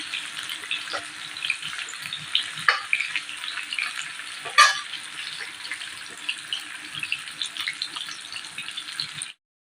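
Greens sizzle and crackle steadily in a hot pan after spice powder is added, with a couple of sharper pops and light clatter, no talking.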